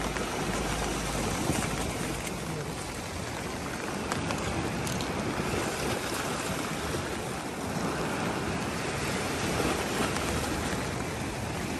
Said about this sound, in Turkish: Arkadaşlar yağmur bayağı bir yağmaya başladı.